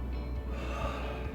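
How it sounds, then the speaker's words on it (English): A deep breath drawn in during a gentle seniors' shoulder-mobility workout, a single soft, airy inhale heard up close over low room rumble. "Take a deep breath in."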